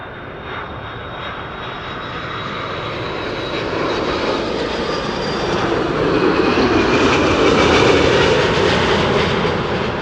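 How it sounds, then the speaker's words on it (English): A Delta Airbus A330-300 jet arriving from Detroit at Amsterdam Schiphol roars steadily, its engine noise swelling louder as it nears and peaking close by, heard alone without voices. "Delta A330 300 from Detroit"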